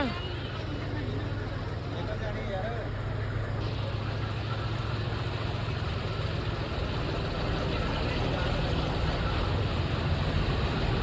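An old tractor's low, steady engine idles close by, with a continuous rumble under background chatter and voices at a village gathering.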